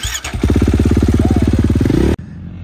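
A supercross dirt bike on a practice track fires up and revs hard in a fast, pulsing burst for almost two seconds, loud and close, then cuts off abruptly into quiet.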